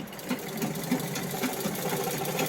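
A sewing machine runs steadily up close while stitching tucks into a petticoat, a fast even mechanical whir with a regular clicking rhythm and no talk.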